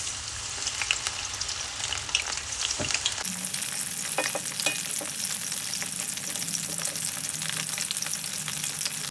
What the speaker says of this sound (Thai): เอาหอมใหญ่ชุบแป้งทอด